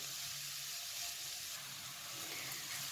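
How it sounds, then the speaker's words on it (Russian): Grated carrot and onion fry together in a pan over medium heat, giving a steady, even sizzle and hiss that holds at one level throughout, close up with no voices. "И продолжаем жарить морковь вместе с луком на среднем огне до мягкости моркови."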